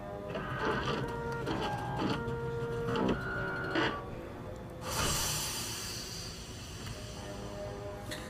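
A 3D printer at work in the video game Watch Dogs 2, with a series of whirring motor tones stepping through different pitches, then a loud hissing burst and a lingering softer hum.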